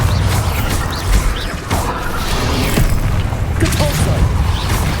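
Bombarda spell blasts in the video game Hogwarts Legacy, heavy booming explosions with crashing debris and rumbling impacts, loud and close, one after another with game clatter between.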